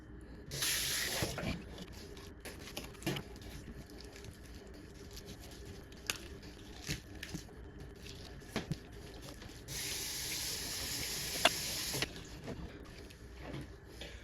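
Running tap water rinses freshly gutted fish at a sink after a kayak fishing catch, a steady hissing spray in two longer bursts with quieter splashing and handling knocks between, no talking.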